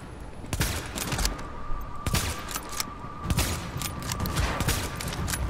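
Shooting in The Division video game, a steady run of sharp shots repeating about every half second over a constant hum and background noise, moderately loud.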